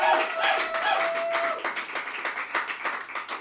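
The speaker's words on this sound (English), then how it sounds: "Let's give him a big round of applause." Audience applause at a storytelling night at the Hideout, loud at first and then breaking into looser, separate claps as it tapers off.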